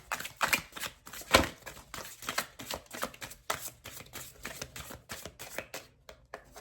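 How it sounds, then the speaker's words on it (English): Oracle cards being shuffled by hand: a rapid run of crisp, papery riffles and taps, close and fairly quiet, in an uneven rhythm with short pauses. "Last shuffle."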